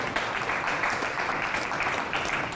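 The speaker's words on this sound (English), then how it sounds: "Minister, and another clap for you." Audience clapping for the Minister for Women at a local government election event, a steady spread of handclaps from a mid-sized crowd, moderately loud and continuous with no talk over it.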